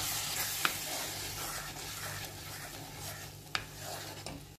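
Pureed tomatoes fry with masala in a kadai for a Bengali katla fish curry, giving a soft, steady sizzle with a few sharp stirring clicks, fairly quiet.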